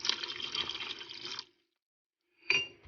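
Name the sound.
pouring red wine into a beef stew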